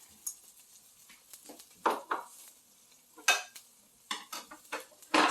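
Butter melting and stirred in a pan before mushrooms go in for a creamy mushroom chicken dish: utensil scrapes and clinks against the pan in scattered bursts, a faint sizzle beneath, no talking.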